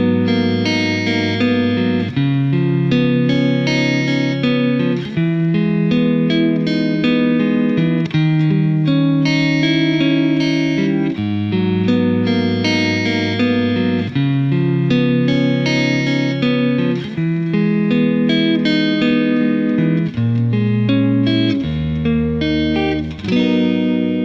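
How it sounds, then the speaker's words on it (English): Electric guitar played through a Line 6 Helix Flexo Vibe, a univibe-style modulation effect, into a Twin Reverb amp model: steady sustained chords and notes with a throbbing, swirling pulse, loud and continuous with no talking. "that was the addition of the brand new Flexo Vibe, which, as the name implies, kind of a univibe"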